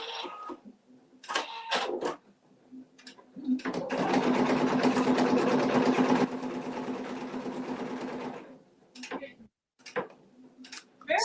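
An embroidery machine sews a placement stitch for a mug rug design, a steady mechanical whirring run of several seconds, with speech before and after it.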